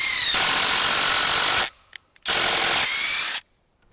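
Bosch 1800C impact driver set to speed 2 drives screws in two loud, sustained rattling bursts of about a second and a half each, with a short quiet gap between them.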